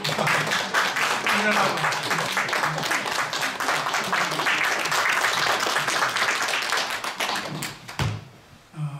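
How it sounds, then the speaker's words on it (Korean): Applause from the congregation at a seminary's spring semester opening worship service in New Jersey, a dense, steady wash of clapping lasting most of the clip before tapering off abruptly near the end, with some talk mixed in. "박수 한번 더."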